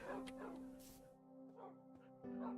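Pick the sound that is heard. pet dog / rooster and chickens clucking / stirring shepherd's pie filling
pet dog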